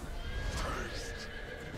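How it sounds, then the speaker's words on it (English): A horse whinnies loudly in a Soulcalibur VI fighting-game match, one drawn-out neigh over background game noise, while tournament commentators talk over it. "My man brought out the horse"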